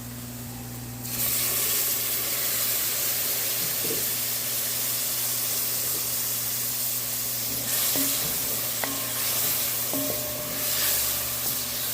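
Curry chicken with green seasoning of celery, chive and garlic sizzles steadily in a pot, a constant close frying hiss with occasional scrapes and knocks of stirring, alone without talk.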